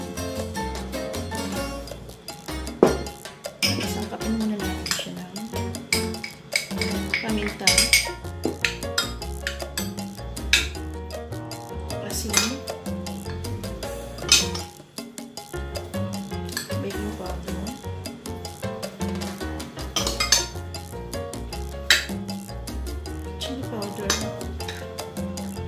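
A whisk rattles steadily through a bowl of flour, cornstarch, eggs, salt, pepper and chili powder for a pork-skin coating, giving a busy run of close tapping clicks and scrapes against the bowl, with brief pauses between strokes.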